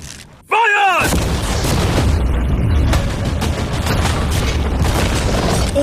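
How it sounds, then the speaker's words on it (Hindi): Cannons fire cannonballs at a new yacht in a loud, sustained burst of booming blasts and crashing impacts, with a short whistling squeal at the start and voices reacting under the din. "अब हम तुम्हारी नई यॉट पर कैनन्स को शूट करने वाले हैं।"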